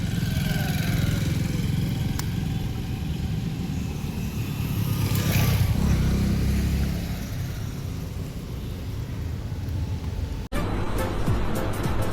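A motorcycle engine rumbles steadily nearby with wind noise, rising slightly midway, then a sharp knock before the engine carries on.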